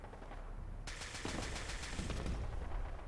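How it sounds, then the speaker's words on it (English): Rapid bursts of weapon fire from a gamma gun and laser weapons in the Fallout 4 video game, a dense, loud, continuous volley starting about a second in, with a quieter rumble before it. "That thing, I think, is a rapid fire gamma gun as well."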